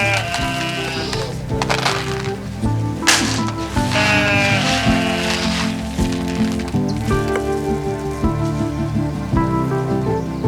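A goat bleats repeatedly at close range over a dense, steady bed of background music and rain-like patter.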